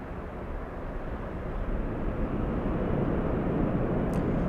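A jet airliner takes off from runway 24 left at Los Angeles International Airport, a broad low roar heard from a distance that builds slowly and holds steady, with no talk.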